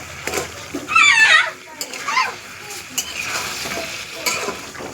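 Beef stir-frying in its own released juices in a village kitchen, with bursts of sizzling and spatula scraping, brief clattering strikes, and a voice heard in the background.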